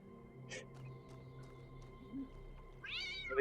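A cat meows in the puzzle game The Talos Principle II: a rising, wavering meow near the end follows soft ambient tones and faint chirps, fairly quiet overall.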